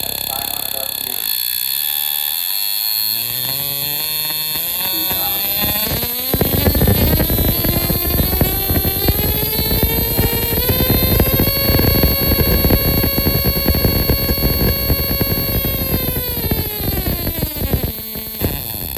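Engine running at 500 RPM on an engine dyno, a loud steady drone with strong harmonic whine that rises in pitch as the throttle opens, holds high and sustained, then eases back near the end.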